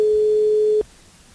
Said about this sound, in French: Décroche ton téléphone, Corinne.